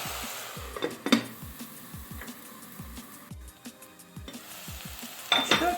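Mixed vegetables for a vegetable soup sauté in a pot, with a soft steady sizzle under repeated scrapes and clinks as a spoon stirs them, and a brighter clatter near the end.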